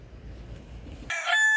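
A rooster crows suddenly after quiet low background noise, a loud, close, bright call cut off at the end.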